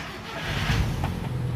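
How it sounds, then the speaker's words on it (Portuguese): A VW Gol G2 engine catches and settles into a low, close rumble at idle, with a brief rise in revs partway through. "Vou dar partida no carro."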